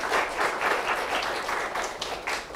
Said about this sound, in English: Can we have a nice round of applause for George, please?